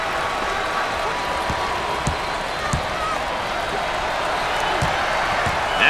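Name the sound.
crowd cheering in NCAA Basketball 10 video game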